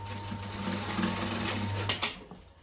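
A sewing machine runs a steady stitching burst along a duffel bag seam, its motor whirring and needle ticking close by, then stops abruptly near the end with a couple of short clunks.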